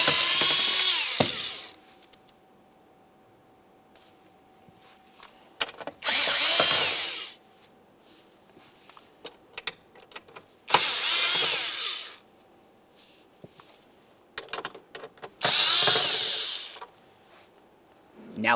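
A power tool spins out 7mm-headed bolts from a plastic panel on a 2005-2010 Dodge Dakota, sounding as four loud, close whirring bursts of a second or two each, separated by quieter gaps with small clicks and handling noises.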